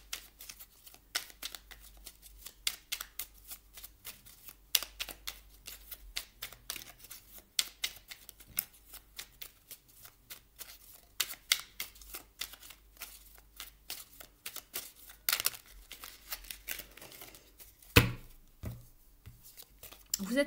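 Oracle cards shuffled by hand, a long run of quick papery riffles and flicks, sometimes dense and sometimes sparse, close up, with a voice talking now and then.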